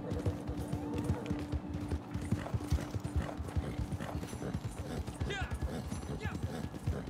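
Horse hooves in the Western video game Red Dead Online, a steady, close clip-clop of a riding horse with an occasional whinny, mixed with continuous game ambience.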